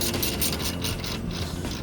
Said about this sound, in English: Once all of the bolts are snugged up, it's time to firmly tighten them up.